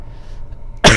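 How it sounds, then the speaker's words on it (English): After a stretch of quiet low hum, one sharp, loud cough bursts out at the very end. "I did a good cough."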